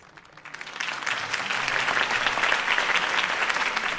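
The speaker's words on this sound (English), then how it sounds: "If only Mr. Wayne, my campaign's largest backer, could have heard that applause" A crowd in the video game Batman: The Telltale Series breaks into applause after a campaign speech, swelling quickly and continuing as dense, steady clapping from many hands.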